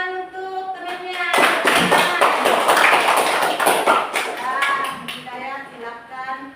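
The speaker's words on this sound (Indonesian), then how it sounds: "tepuk tangan untuk temannya." Children in a classroom clap together for a classmate who answered a question, a dense burst of hand claps with chattering voices mixed in, near and fairly loud.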